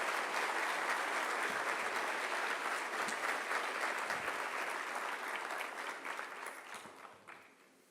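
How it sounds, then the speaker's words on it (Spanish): Large audience at a business association's anniversary event giving strong, sustained applause, a dense wash of clapping that holds steady before gradually fading out. "quiero pedir un fuerte aplauso, con fuerza"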